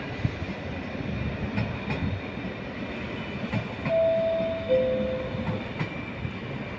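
A train pulls into platform 2 at Padova station with a steady low rolling rumble. Two thin, high brake squeals ring out near the middle, and no one speaks.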